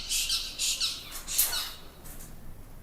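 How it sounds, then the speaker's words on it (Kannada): Repeated harsh bird squawks, several short loud bursts in quick succession with a brief quieter gap, heard outdoors with no talking. "ಏನೋ ಪಕ್ಷಿ ಅದೇ ಬರ್ಡ್ ಸೌಂಡ್"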